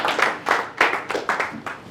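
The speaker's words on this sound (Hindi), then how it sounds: "तो जोर से ताली बजा के स्वागत करो" An audience at a Holi poetry gathering claps in welcome, a brisk run of quick, uneven hand claps from a small group, fairly close and without talk.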